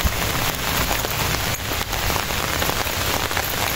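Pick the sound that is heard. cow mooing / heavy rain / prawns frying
heavy rain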